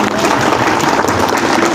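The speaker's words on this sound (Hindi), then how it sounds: "जिनको समझ में आ रही है वो एक बार ताली बजाएं।" An audience at a Vestige business seminar in Kathmandu claps together, a short loud burst of applause filling the whole moment with a faint murmur of voices beneath.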